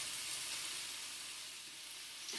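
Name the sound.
artichokes sauteing in a pan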